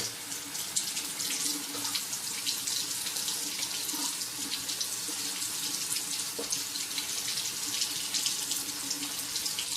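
A water tap runs steadily while a Rockwell 6c safety razor is rinsed, giving a continuous close splashing hiss with small shifts as the blade passes under the stream, with no voices.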